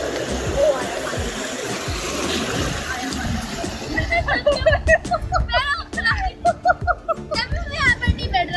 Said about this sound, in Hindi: ओ आया पानी।